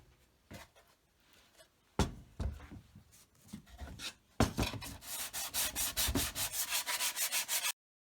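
Hand sanding with 80 grit sandpaper on a 1945 Meck tube radio, starting with scattered scrapes and then settling into a fast, regular back-and-forth rasping rhythm, close and fairly loud.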